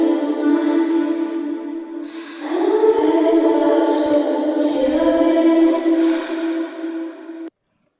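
A 100% wet reverb bus in FL Studio plays alone, a smeared, washy tail of sustained tones with no dry signal, loud and continuous with a pitch shift partway before stopping abruptly.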